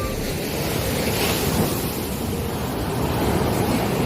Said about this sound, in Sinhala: මේ පැත්තෙනුත් මුහුදු රළ එනවා අනිත් පැත්තෙනුත් මුහුදු රළ එනවා